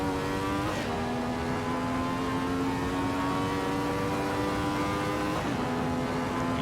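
A Ferrari 312T race car engine in Assetto Corsa screams at high revs with a steady, droning pitch, briefly dipping twice on gear shifts.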